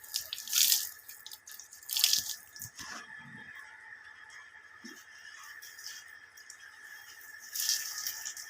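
Water gushes in intermittent loud splashes while a buffalo is washed down outdoors, with quieter trickling between bursts and a few soft knocks.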